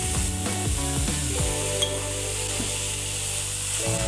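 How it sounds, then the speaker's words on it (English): Ground beef browns in a hot pan for a single mini lasagna, sizzling and crackling steadily throughout, with brief scraping stirs and faint clinks of a utensil against the pan close by. "We're going to brown the ground beef."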